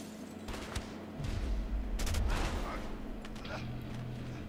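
Gunfire in the video game A Way Out, with a few sharp shots and a heavier booming burst in the middle over a low rumble.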